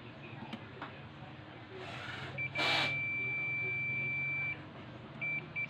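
A multimeter in continuity mode beeping while rectifier diodes are tested on the power board of a Samsung 32-inch TV with no power: a steady tone lasting about two seconds, then brief short beeps over quiet background.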